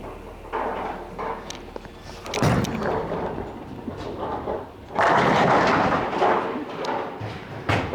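A Storm DNA bowling ball rolls down the lane with a low rumble, then crashes into the pins with a loud clattering burst about five seconds in, amid indoor alley background noise.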